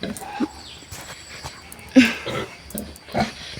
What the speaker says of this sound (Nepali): देख्न सक्नुहुन्छ कस्तो ख्याँ गरेर नि यो सुँगुरहरू